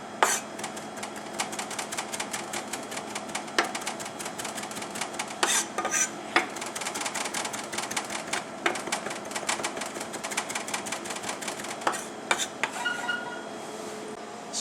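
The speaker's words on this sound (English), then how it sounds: "we're just going to mince this up really fine" A knife mincing ingredients very finely on a cutting board for mango salsa, giving a rapid, steady stream of close, crisp chopping taps that runs throughout with brief pauses, with no talking.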